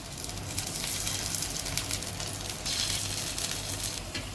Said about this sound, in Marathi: आपलं फ्राय पॅन तापलाय, त्यावरती आपण तेल टाकूया